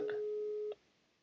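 A telephone line gives a steady busy tone, a single sustained electronic beep heard faintly close up that stops abruptly after under a second, with background noise around it.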